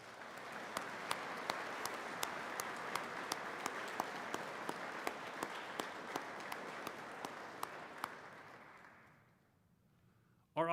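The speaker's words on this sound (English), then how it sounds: "please join me in offering them a round of applause for their hard work and dedication" An audience applauds at a peace officer academy graduation ceremony, with steady sustained clapping and scattered sharper individual claps that die away near the end before a brief sound at the close.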